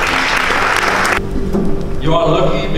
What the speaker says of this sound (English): Come on, warm applause, please.